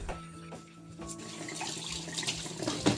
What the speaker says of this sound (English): Rinse the cups under running water.